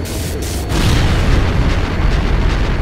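A loud, deep boom erupts in the video game Trails of Cold Steel, followed by a sustained heavy rumbling roar that fills the rest of the moment.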